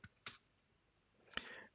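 A computer keyboard, typing a command into a Linux terminal inside a virtual machine: a few sparse, quiet key clicks spaced apart, with a final louder keystroke.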